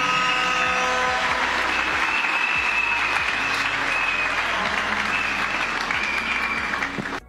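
A church congregation applauds to acclaim the Lord with steady, full-room clapping that stays loud and continuous throughout before stopping abruptly at the end.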